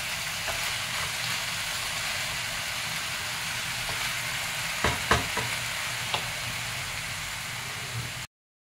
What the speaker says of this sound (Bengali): এবার পেঁয়াজ কুচি আর আদা রসুন বাটার সাথে চিকেনটা খুব ভালোভাবে নেড়ে দিতে